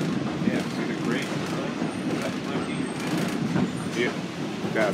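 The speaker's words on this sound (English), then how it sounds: "It's a really nice train ride." Rumble and steady clatter of an open-air passenger car on the Wilmington Western Railroad rolling along the track, with wind rush and people talking close by.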